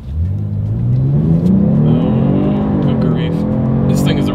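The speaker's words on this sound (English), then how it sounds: "let's do a quick acceleration test now" A 2022 Genesis G70 with a twin-turbo V6 accelerating hard, its loud engine note climbing steadily in pitch as it pulls, with a brief higher whoosh near the end.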